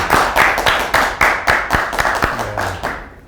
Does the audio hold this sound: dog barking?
no